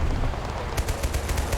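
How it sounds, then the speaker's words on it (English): Vehicle-mounted gunfire in the Total War video game Total Conflict: Resistance, a rapid string of automatic bursts starting partway in, repeating in a steady rhythm over a constant low battle rumble. "They must have a vehicle up there firing on us."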